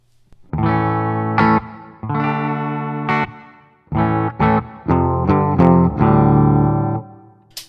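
An electric guitar on the bridge pickup, clean, plays a series of sustained notes and chords, each ringing out clearly with a bright, slightly processed tone and short pauses between.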